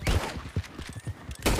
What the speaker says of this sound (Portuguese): Tiro pro alto.